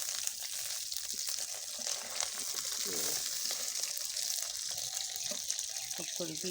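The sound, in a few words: fish frying in oil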